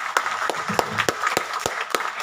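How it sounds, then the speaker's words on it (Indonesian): Scattered audience clapping for a performer at a Betawi theatre show, Kembang Batavia's Siliwangi Gugat, with sharp, uneven claps that never build into a full ovation. "Saya mohon tepuk tangan yang meriah untuk Gus Plus."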